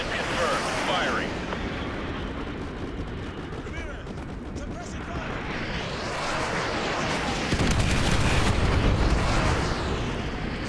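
Artillery strike in Modern Warfare 2 Remastered: heavy rumbling explosions and booming impacts that build and swell toward the end, with radio-style voices talking over the barrage.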